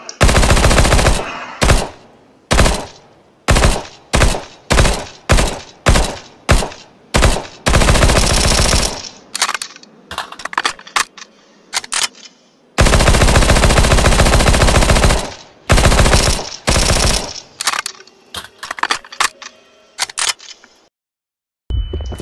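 Rapid bursts of P90 submachine gun fire in Counter-Strike crack loudly in short volleys and longer sustained sprays, close and harsh, with brief pauses between strings of shots.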